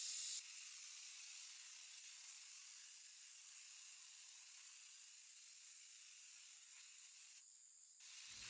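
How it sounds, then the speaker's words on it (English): A continuous hiss of a Zinsser aerosol spray primer can being sprayed close by onto a dresser, holding steady for several seconds before stopping near the end. "now I'm just going in with some Zinsser spray primer"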